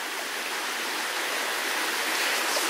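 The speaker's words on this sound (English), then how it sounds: "That's beautiful though, isn't it? The sound of the water." Stream water flows down a hillside combe with a steady, close, broadband rush that stays even throughout, with no talking.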